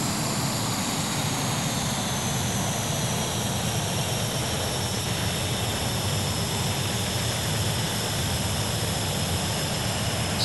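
Continuous loud roar of a Tornado GR4 jet in a flight video game, flying over mountains near Chiclayo, Peru, steady and unchanging, with a broad rushing hiss and faint high whine.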